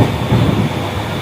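A passenger train riding along, its steady low rumble and faint wheel clatter filling the whole stretch as one continuous, fairly loud sound with no talk.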